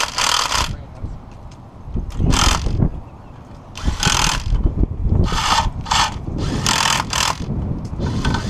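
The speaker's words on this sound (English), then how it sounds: "these bolts are just threaded, so we're gonna just run them all in." Threaded oil pan bolts are run in on a VW Rabbit, giving repeated bursts of quick ratcheting clicks with short pauses between them, close and fairly loud.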